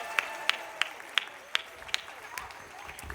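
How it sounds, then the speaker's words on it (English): A small group claps for Santa at a children's hospital holiday visit, giving sparse, scattered claps about every third of a second, faint and thin rather than a full ovation. "Let's give Santa a round of applause."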